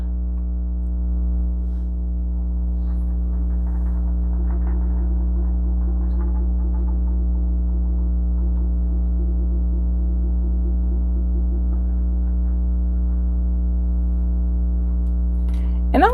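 Tajima SAI 8-needle embroidery machine tracing a design outline for a sweatshirt, giving off a steady electrical hum with a soft pulsing motor drone, close and continuous, ending in a brief rising chirp.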